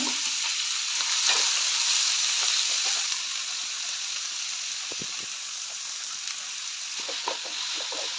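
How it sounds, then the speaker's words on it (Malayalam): Chopped shallots sautéing in hot oil with curry leaves for an onion-chilli pickle, a steady close sizzle and hiss with occasional stirring scrapes, continuous throughout with no talking. "അതൊന്ന് ജസ്റ്റ് വഴറ്റിയിട്ട് നമ്മൾ ഇനി അരിഞ്ഞു വെച്ച ചെറിയുള്ളി തട്ടി കൊടുക്കുകയാണ്"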